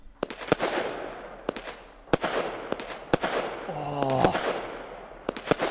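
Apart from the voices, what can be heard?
High Falutin 49-shot firework cake, Fireworks Mania video game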